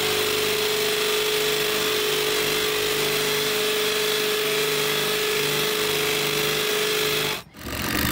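Power drill boring holes for propane lines under a house, a loud, steady, close whine and rattle running unbroken for several seconds before a brief cutoff and restart.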